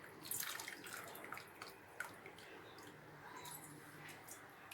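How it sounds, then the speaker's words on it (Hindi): Whey water drains off fresh chhena, milk curdled with lemon for rasmalai, as a faint, steady trickle with light drips and splashes, close by and quiet, with no talking. "अब मैं इसको इस तरीके से इसका पानी जो है वो हटा दूंगी"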